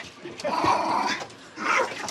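A dog whimpers and growls at a bucket in short, uneven bursts, close by and moderately loud, with faint voices or background noise underneath.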